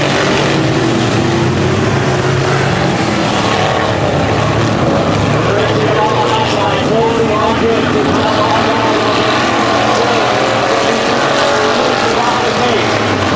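Race cars roar around a 250 speedway oval, a continuous loud, dense engine drone from several cars racing together, with a track announcer talking over it throughout.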